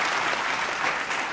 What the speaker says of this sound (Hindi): एक बार दोनों के लिए तालियां बजा दीजिए।